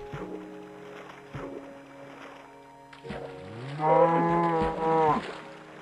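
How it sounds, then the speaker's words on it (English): A Minecraft cow (mooshroom) moos twice, first short and low, then a longer, louder, drawn-out moo, with faint clicks and game noises around it. "there's a cow trying to escape"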